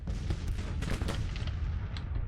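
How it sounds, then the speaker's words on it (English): Cannon fire in the Civil War strategy game Grand Tactician, a dense rumbling barrage of booming artillery shots fired in rapid overlapping succession, loud and continuous. "Now, is this cannon firing?"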